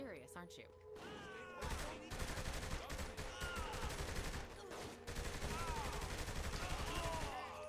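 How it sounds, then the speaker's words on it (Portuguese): Dense gunfire and bursts of shooting fill a shootout in Saints Row: The Third, with continuous rapid shots and game effects, and a player's voice faintly under the action. "Tiroteio franco."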